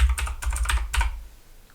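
Quick burst of computer keyboard typing, about a dozen crisp close-up keystrokes in an uneven run that stops after about a second, leaving quiet.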